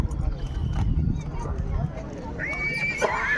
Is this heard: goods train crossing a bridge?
no